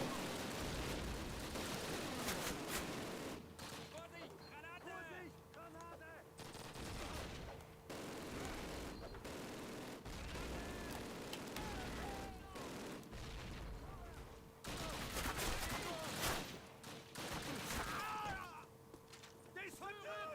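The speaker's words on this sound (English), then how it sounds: "the blooming throwing grenades at me now" Grenade blasts and rapid gunfire from the video game Call of Duty Classic, a dense, loud barrage of shots and booms with bursts of heavier fire, while someone talks throughout.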